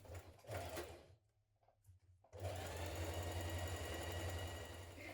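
A sewing machine stitches a knit top's sleeve underarm seam, running in a quick, even hum, pausing briefly, then resuming in a longer steady run, close and alone.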